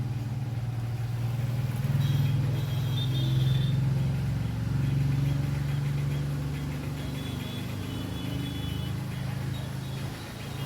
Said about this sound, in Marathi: आता भरपूर ट्रॅफिक झालं आहे